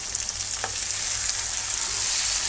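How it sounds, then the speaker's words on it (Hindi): Okra (bhindi) fries in hot spiced oil, filling the clip with a loud, dense, steady hiss and crackle, with a faint stir early on and no talk. "अब हम इसमें भिंडी डालेंगे जो हमने रखी थी।"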